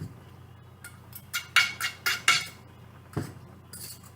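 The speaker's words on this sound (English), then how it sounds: "Make sure you stir." Utensil clinking against a pan while stirring a meat and tomato mixture, a quick series of sharp metallic taps and scrapes, close and fairly clear over a low background hum.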